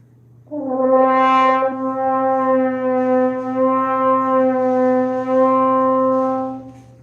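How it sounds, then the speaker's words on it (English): A sustained French horn note held for several seconds, its pitch sliding gently up and down as a hand moves in and out of the bell, played alone and fairly close. "Or I can change the tuning if I go in and out."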